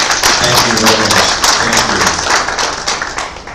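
Audience applause at an agricultural business event, a dense, loud wash of many hands clapping that holds steady throughout with no pauses.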